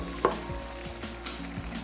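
A spiced dish with salt, garlic, cayenne, paprika and pepper frying in a pan, stirred with a few scrapes over a continuous nearby sizzle.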